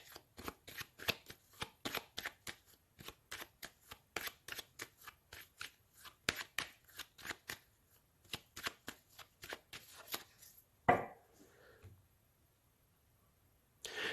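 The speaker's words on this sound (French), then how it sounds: "je vais faire une coupe avec mon tarot que j'utilise tous les jours en consultation" Tarot cards used for divination readings are shuffled in a long run of quick, crisp riffles, close and clear, then cut with a sharper slap near the end before the sound goes quiet.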